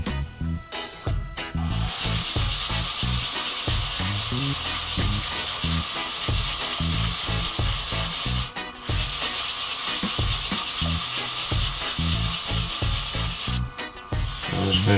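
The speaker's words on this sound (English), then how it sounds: "So I'm going to give it a good sand now" Abrasive paper rubs against a small wooden pendant spinning on a wood lathe, a steady close hiss and scrape with the motor running throughout and brief pauses.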